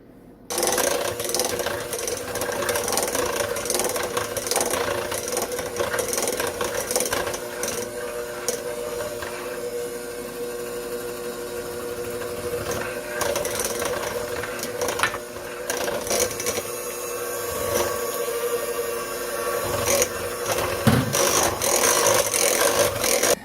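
An electric mixer beats eggs one at a time into orange cranberry pound cake batter, giving a steady, continuous whir with rattling and scraping against the bowl. The sound runs unbroken and fairly loud, with no talking.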